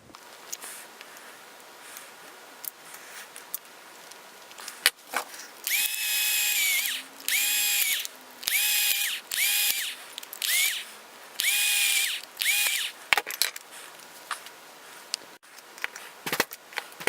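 A power drill with a huge bit boring out the air restrictors of a Buzz Bee Sentry toy blaster, in a series of loud, whining bursts with short gaps, followed by faint handling noises.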